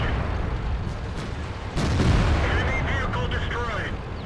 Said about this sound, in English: I shoot at this Waffle while moving.